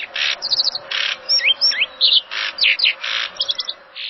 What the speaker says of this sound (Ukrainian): А це хто такі? Так, це пташечки